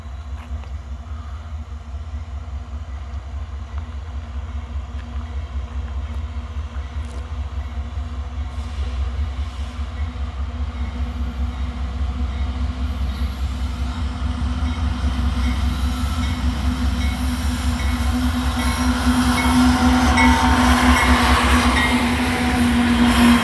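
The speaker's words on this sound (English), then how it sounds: "CSX coal train, I don't see this too often." A long CSX coal train rolls past at Abbeville, a steady rumble of wagons with rhythmic wheel clatter that grows louder and closer toward the end, with no voices.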